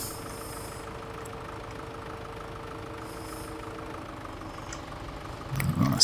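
Tractor engine in the Farming Simulator game idles with a steady low rumble, holding even for several seconds before a louder burst near the end, with no talking.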